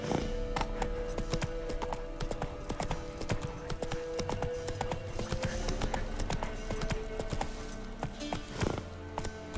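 Roach the horse's hooves clip-clop in The Witcher 3, a rapid, close, continuous patter of hoofbeats over an ambient game soundscape.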